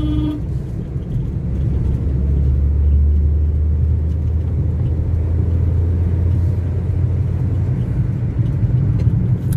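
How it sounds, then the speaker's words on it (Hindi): Maruti Suzuki WagonR car driving on the road, a steady loud low engine and tyre rumble filling the whole stretch without a break, no voices over it. "तो अब देखो गाड़ी आई"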